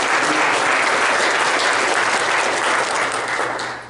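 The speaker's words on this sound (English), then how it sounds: "Just give a big round of applause to them for this weekend." A church congregation claps loudly after a weekend event, with dense, even applause that fills the room and starts to fade near the end.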